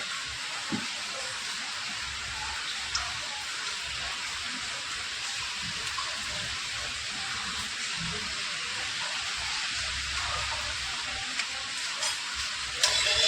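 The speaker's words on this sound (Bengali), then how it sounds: "সর্ষের তেল দিলাম এবারে আলুটা ভেজে নেব" Potatoes frying in hot, smoking mustard oil, a steady close hiss and sizzle with faint crackles and pops scattered through, no voices.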